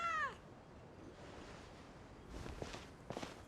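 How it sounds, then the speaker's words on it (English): A cat in the game Genshin Impact gives a short, clear meow at the start, followed by quiet ambience and a couple of soft rustling footstep-like sounds. "Even a passing cat can't help but stop in its tracks and look up in anticipation."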